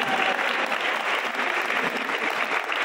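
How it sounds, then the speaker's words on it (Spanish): Loud, sustained applause from an audience at a Spanish-language telenovela cast press presentation, a dense continuous clapping crowd with no break throughout. "Un fuerte aplauso, eso demuestra el caballero que es."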